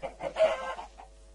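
Chicken clucking in Minecraft, a short burst of a few quick clucks, fairly faint and alone.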